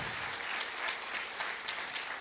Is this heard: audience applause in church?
yes